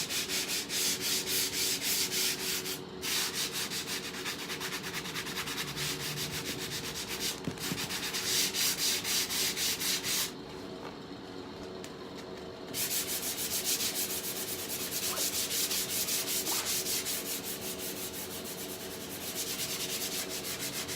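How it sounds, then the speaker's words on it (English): Continuous rhythmic sanding on painted wood, close and loud, with rapid back-and-forth scratching strokes and a couple of brief pauses. "so I'm going to continue sanding."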